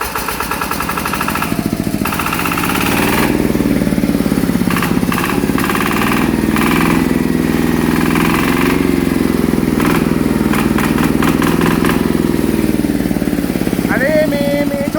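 A Yanmar 150 diesel engine with stock exhaust runs steadily and loudly up close with a throbbing, rattling idle throughout, with brief faint voices.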